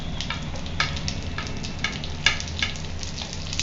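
Chopped pieces and onions fry in a pan for spicy egg fried rice, making a constant close sizzle broken by several sharp spatula scrapes and clicks, with no talking.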